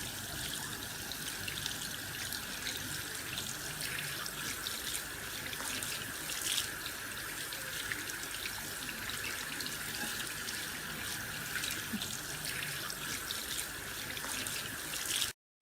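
Water from a tap runs steadily into a sink while hands are washed, a constant close splashing hiss with small fluctuations throughout, no voices.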